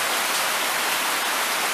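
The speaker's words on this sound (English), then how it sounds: "we got a little bit of rain still coming" Steady rain falling outdoors at night, a continuous dense hiss of drops with no let-up, loud and close throughout the short stretch, with no voices.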